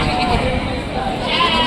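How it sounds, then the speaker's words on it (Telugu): A lamb bleats at a rural livestock market in Rajarampalli, a close, wavering cry set against a dense bed of crowd murmur and outdoor market noise. "అది ఆ గొర్రె పిల్ల"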